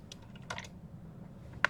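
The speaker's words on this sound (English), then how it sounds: "Typing, I mean typing" Computer keyboard typing in Microsoft Word, a few scattered soft keystrokes and clicks over a low background hum, ending with one sharper, louder key press.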